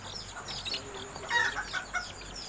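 Malaysian Serama chicken chicks give soft, scattered clucks and chirps close by, a few short bursts over a quiet background.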